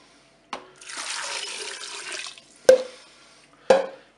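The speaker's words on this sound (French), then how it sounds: "Je vais ajouter les 50 ml de vin blanc, mon bouillon" White wine and then broth are poured into a Cookeo pressure cooker pot with carrots and parsnip: a steady splashing pour of about two seconds, followed by two sharp knocks spaced a second apart, close and with no talking.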